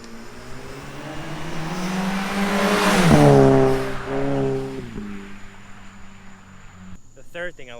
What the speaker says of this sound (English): that's where you're getting the more turbo noise from